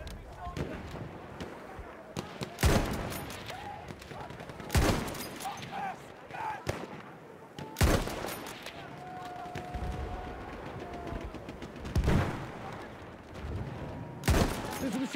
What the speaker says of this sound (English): There's a machine gun!